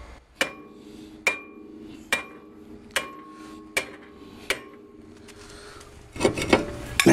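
A hammer strikes the surface of a stuck brake rotor on a vehicle, giving six evenly spaced sharp metallic clangs that ring briefly, followed by a burst of scraping and clattering metal at the end.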